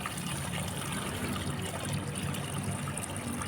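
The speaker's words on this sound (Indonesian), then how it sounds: "kita lihat jika airnya turun. Nah, ini airnya turun kan." Water trickling and draining down through potting soil in a bougainvillea pot, a steady close wet patter and hiss with no pauses throughout.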